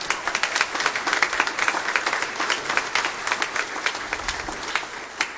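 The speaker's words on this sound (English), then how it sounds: "can we give a round of applause to our Sunday school teachers?" A Lutheran congregation at Sunday worship gives a round of applause for the Sunday school teachers, a moderate, crisp patter of many hands clapping that holds steady, then thins near the end.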